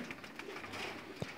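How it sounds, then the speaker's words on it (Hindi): Domestic pigeons kept on a rooftop loft in a village near Sarai Alamgir cooing softly, faint and brief, with one slightly louder coo near the end. "ये आफ्ताब भाई और शाकाब भाई और सलमान भाई के कबूतर हैं।"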